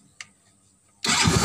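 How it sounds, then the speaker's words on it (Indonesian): A motorcycle engine fitted in a small homemade car cranks and catches after a brief click, then runs loud and rough at close range. "Itu suara motor, bukan suara mobil ya."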